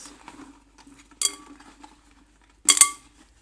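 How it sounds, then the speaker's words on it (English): Two bright metallic jingles of clinking bracelets, separated by a pause, with soft rustling and faint clinks in between; close and fairly quiet. "Sorry for the noise, it's my bracelets."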